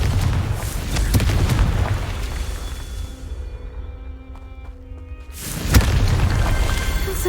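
A Confringo spell blast in the Hogwarts Legacy video game, with heavy booming explosions at the start, a quieter stretch, then another sharp loud burst and rumbling impact near the end.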